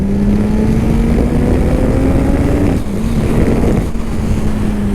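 A motorcycle engine drones steadily while riding on dry roads in cold weather, with a sustained low tone shifting pitch around gear changes and constant wind rush over the microphone.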